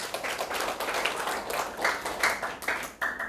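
Church congregation clapping during a Sunday worship service, many hands striking in loose rhythmic bursts, moderately loud and close, with a few distinct claps standing out toward the end.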